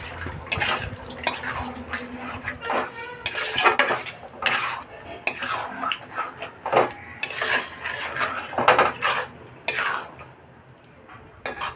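A metal spoon stirs potatoes cooking in a pot for aloo dum, with repeated clattering scrapes and knocks against the pot's sides in an irregular rhythm, close and fairly loud, with no talk.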